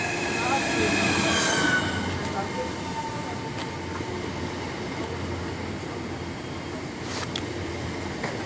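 A Class 395 train pulls into the platform at Gillingham station in Kent, a steady broad rumble of wheels and motors with faint squealing, louder at first and then holding level, with a voice faintly nearby.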